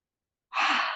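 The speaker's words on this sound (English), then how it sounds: "Releasing that breath." A single slow exhaling breath during a yoga forward stretch, soft and airy, starting halfway through after silence and fading gently at the end.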